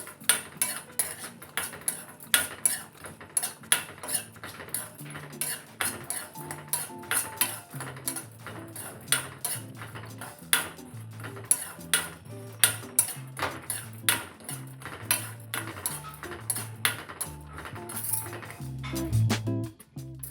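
Dry coconut is roasted lightly in a pan while a utensil scrapes and clinks against the metal in a busy, steady rhythm, close and fairly quiet.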